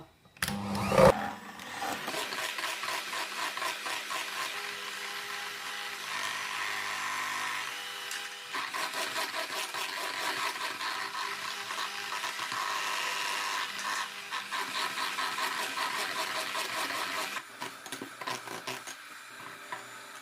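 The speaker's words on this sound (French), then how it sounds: "là j'ai bien fouetté le blanc avec la moitié du sucre" An electric mixer whisks egg whites with sugar for an orange and coconut cake, a steady whirring drone running almost the whole time after a brief clatter at the start.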